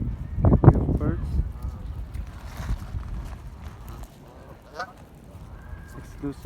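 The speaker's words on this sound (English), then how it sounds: "Beauty of birds." Geese honking along the River Thames near Putney Bridge, a few loud calls close by early on with softer calls later, over steady outdoor background and someone speaking.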